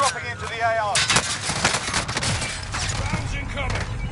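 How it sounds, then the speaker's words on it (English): Bombs and artillery fire in a video game battle, a dense run of loud booms and rapid blasts with a voice speaking over the barrage. "Bombs incoming."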